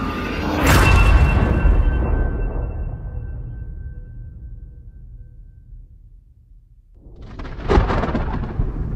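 Thunderstorm sound effect behind an audiobook reading: a loud thunderclap rumbles out and fades over several seconds under a steady rain wash, then a second crack of thunder breaks in near the end.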